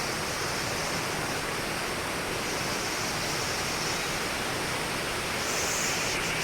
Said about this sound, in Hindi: ये देखिए वाटरफॉल और इसका रॉक फॉर्मेशन।